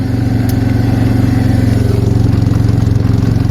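An Arctic Cat 366 ATV engine runs steadily up close, a continuous low, throbbing putter with an even pulse and no voices over it.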